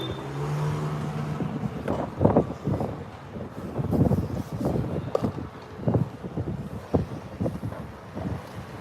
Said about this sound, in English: It's less windy right here.